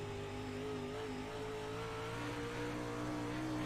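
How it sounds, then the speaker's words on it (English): Dirt track race cars rev hard and blip the throttle over a slick, bumpy track, a continuous loud engine drone with shifting pitch and a steady rumble throughout, no voices. "You can hear these cars really working the throttle"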